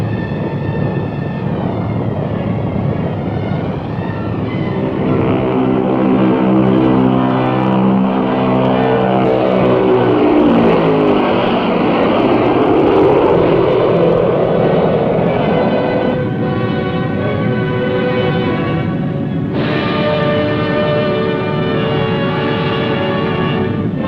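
A B-36 bomber's propeller engines drone loudly and continuously, a dense multi-engine roar with shifting pitch as the aircraft passes close by, alone without talk.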